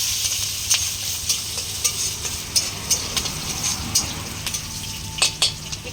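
Green chili and ginger frying in oil in a pan while being stirred, a steady loud sizzle with regular scraping strokes of a spatula recurring through the whole stretch, no talking.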